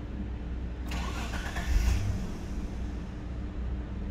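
A 1996 Mitsubishi Pajero V20 with a V6 engine cranks briefly, then catches and settles at once into a smooth, quiet idle. It is heard from nearby with the door open and no one speaking.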